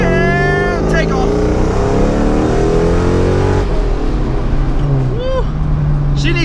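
A supercharged car accelerates hard from a standstill, its engine note climbing in rising, stepped harmonics through several gear shifts, loud and close throughout.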